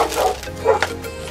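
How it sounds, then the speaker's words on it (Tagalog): A pet dog gives a few short, close barks and yips in a home, quick bursts spread over a second or so, fairly loud against a quiet room. "Pasensya na kung naririnig yung aso namin"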